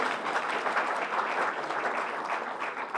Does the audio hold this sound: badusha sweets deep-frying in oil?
no